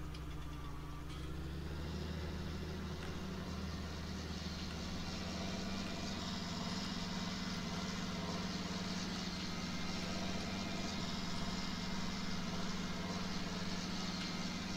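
A tractor engine in Landwirtschafts-Simulator 19 runs at a steady idle-like drone, low and continuous throughout with no talking.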